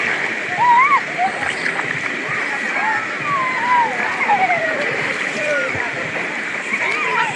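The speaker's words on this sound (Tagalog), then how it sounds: "Oh, lakas ng agos." A strong river current splashes and rushes continuously nearby while several people talk and laugh over the water.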